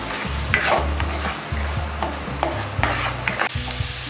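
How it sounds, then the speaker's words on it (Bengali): Chopped green chillies and salt stir-fried in hot oil in a pan for Bengali chira pulao (flattened-rice pilaf): a close, steady sizzle with repeated scraping stirs throughout, and no voices. "এখন আমি একটু নেড়ে ভেজে নেব।"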